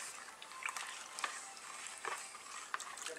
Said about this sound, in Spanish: Pueden ver, el agua está hirviendo.